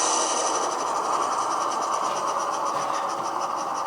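Model train locomotive on a layout powering down, a steady hiss and rumble with a faint rolling clatter, close and continuous with no talking.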